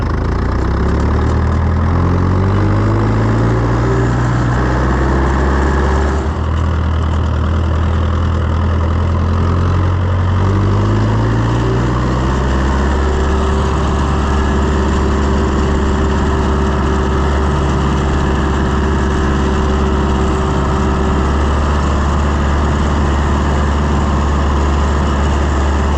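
An ISEKI T7000 tractor engine running near and loud: a steady, smooth diesel idle whose low drone shifts pitch a couple of times before settling into an even run.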